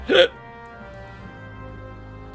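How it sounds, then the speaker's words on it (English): A single sharp hiccup bursts out near the start, followed by a quiet room with a low hum, from a player during a Final Fantasy XIV: A Realm Reborn session. "Whilst I have hiccups."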